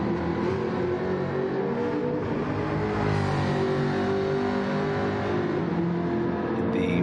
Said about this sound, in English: Raspy, burbly F-Type.